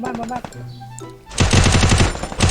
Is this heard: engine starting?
no